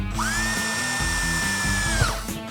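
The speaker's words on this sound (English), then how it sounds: "I'm going to need to drill a hole in the top" A power drill whirs steadily at high speed for about two seconds drilling a hole in the top of a prop portal gun, then winds down, loud and close.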